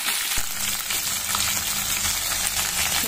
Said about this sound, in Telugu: బాగా వేయించిన తర్వాత బీన్స్, అన్ని వెజిటేబుల్స్ వేసి బాగా వేయించుకోవాలి.